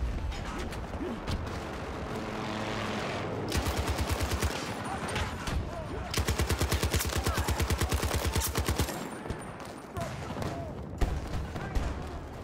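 M60 machine gun fire in the video game Battlefield 2042, with long rapid automatic bursts rattling loud and close, separated by brief pauses.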